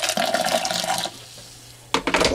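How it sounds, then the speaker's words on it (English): Hot water is poured into a diesel heater part to rinse it, giving a loud splashing and gurgling fill that stops, leaves a quiet pause, then starts again. "Just going to chuck a load of hot water in there."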